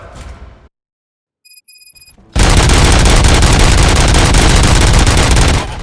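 Gunfire in the video game RoboCop: Rogue City, a brief quiet beep-like tone followed by a sudden loud, sustained burst of rapid automatic shots that fills the rest of the stretch.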